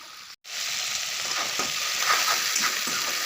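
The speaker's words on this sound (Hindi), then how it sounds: "टमाटर डाल रही हूँ। टमाटर को अच्छी तरह से भून लेती हूँ ना।" Tomatoes fry in a pan, a steady close sizzle that starts after a brief silent gap and continues evenly with faint crackles and stirring throughout.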